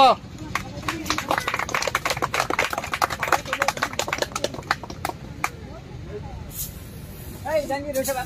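Hands clap in a lively crowd at a Bengali stage event, dense applause that gradually thins out, with a voice speaking over it near the end.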